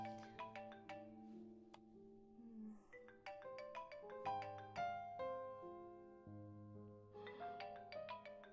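A phone ringtone plays a bright repeating electronic melody with steady bell-like notes, pausing briefly around the middle before the tune resumes, with no voices over it.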